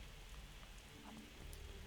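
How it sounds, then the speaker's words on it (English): Steady rain falls in the video game Fall of Porcupine: Last Days of Summer, a soft continuous patter that stays faint and even throughout, with no voices. "Hopefully the rain will stop by then."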